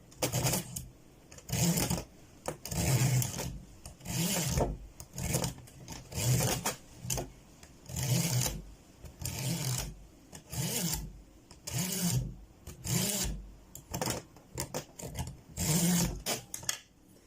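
Steel knife blade sharpened by rubbing its edge against another blade at a shallow angle, giving repeated rasping strokes in a steady back-and-forth rhythm, close and fairly loud, about a dozen passes with short pauses between them.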